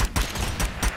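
Rapid bursts of video game gunfire from Strange Brigade, several loud shots cracking in quick succession over about a second, close and dominant with no talk.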